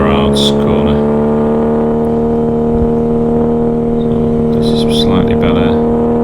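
Triumph TR6 racing car at full throttle on the Mallory Park circuit during a sprint, engine holding a loud, steady high-revving drone with harmonics rising slightly, close and continuous throughout with faint tyre and wind noise.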